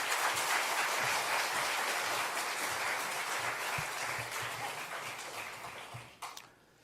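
A church congregation at a Sunday worship service applauds to welcome the pastor, loud sustained clapping across the room that tapers off near the end.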